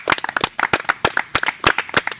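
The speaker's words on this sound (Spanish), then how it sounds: "yo sí quiero darle un muy fuerte aplauso a mi compa Fabi" Clapping from a small group of people at a transformative bonfire gathering, for a friend named Fabi, sounding as a run of sharp, fairly close claps in a loose, uneven rhythm with no talk.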